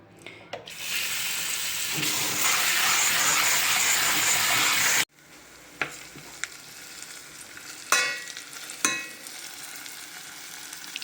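A kitchen tap runs hard and steady for about five seconds as vegetables are washed under the stream, then shuts off, leaving light knocks and handling clatter nearby.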